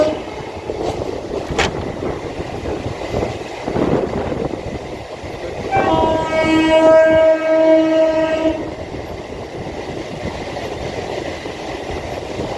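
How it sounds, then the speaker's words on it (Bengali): A down Sealdah–Diamond Harbour electric local train passes near Sonarpur with a loud, steady roar of rolling wheels, and its horn sounds a sustained tone midway through. "এটা হচ্ছে বন্ধুরা down Sealdah diamond Harbour local, down Sealdah diamond Harbour."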